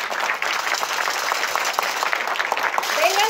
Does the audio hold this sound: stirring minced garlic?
no